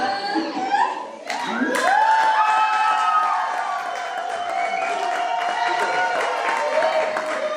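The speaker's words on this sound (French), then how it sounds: "On applaudit, Klappa och applådera. on applaudit" Wedding guests at a church ceremony burst into applause and cheers after the couple are declared married, a dense crowd sound swelling after a brief voice and sustaining loudly, with whoops and organ-like tones mixed in.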